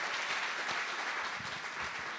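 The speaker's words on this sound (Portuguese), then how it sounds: "Dê um aplauso ao Senhor." Congregation at a family worship service giving brief applause, a dense wash of clapping hands filling the space evenly, moderately loud and alone with no talk.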